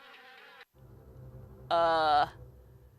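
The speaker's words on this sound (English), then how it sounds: "It's just full of wasps." Wasps swarm a nest in the horror video game Harvester: a short droning buzz, a pause, then a louder, harsher buzzing burst, heard alongside a low background hum.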